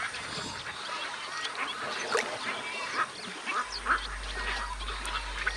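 Ducks quacking among scarlet ibises, spoonbills, egrets and other wading birds in a wetland, many overlapping calls at moderate distance over a low background drone.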